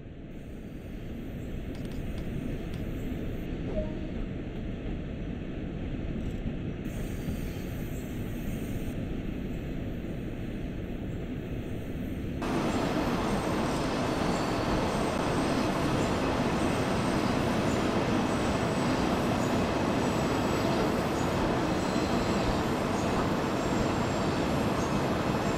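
A DB BR 143 electric locomotive in Train Sim World braking to a stop, a steady rumbling rail roar with hissing brakes that swells louder midway and holds, no voices.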